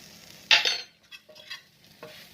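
Spiced okra with chaat masala is stirred in a pan. A sharp scrape comes first, then several lighter scrapes and taps over a faint sizzle in a quiet, close setting with no voices.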